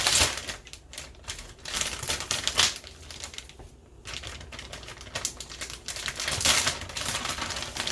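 A whisk beats mac and cheese sauce with mozzarella and sharp cheddar in a pot, giving a busy, rapid scraping and clattering that swells and eases in rhythm, close and fairly loud with no talking.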